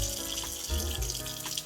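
Tap water runs steadily into a sink while a makeup brush is rinsed under it, a close, continuous splashing rush with slight shifts in tone as the stream is disturbed.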